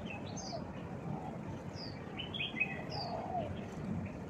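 Birds chirp in scattered short calls at the Tuen Mun ferry pier in Hong Kong, light tweets coming and going over a low, steady outdoor hum.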